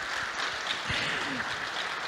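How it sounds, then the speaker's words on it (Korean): Applause from the audience at a university anniversary ceremony, a continuous broad patter of many hands at steady level, with faint voices murmuring beneath. "김우식 이사장님과 김병욱 선수께 다시 한번 큰 박수 부탁드립니다"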